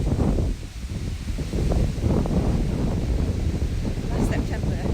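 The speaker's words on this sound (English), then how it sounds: "It's so windy, it's blowing the phone around." Strong wind buffets a handheld phone microphone outdoors, producing continuous low rumbling gusts and rustle with a voice faintly present beneath the roar.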